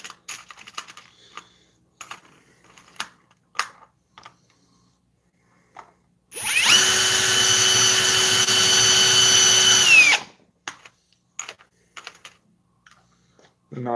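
A power drill bores into a dinner table in one loud, steady burst of about four seconds, close by, with scattered knocks and handling noises before and after.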